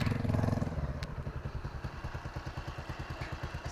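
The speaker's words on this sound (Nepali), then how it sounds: "बाइकको साउन्ड" A motorcycle rides along the Siklesh mountain road, its engine giving a steady rhythmic chugging pulse, loud at first and then settling into a regular beat with some clatter, with no talk.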